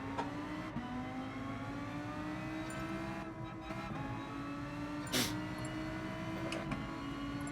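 A Lamborghini engine in the video game GT Sport holds a steady high drone with a rising pitch sweep, broken by a few sharp gear-shift blips and clicks throughout.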